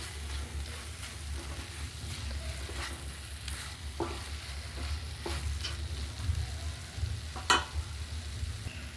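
Bread halwa with fried dry fruits cooking in a pan: a soft continuous sizzle with repeated scraping and stirring strokes, including one sharper clink near the end, and no voices.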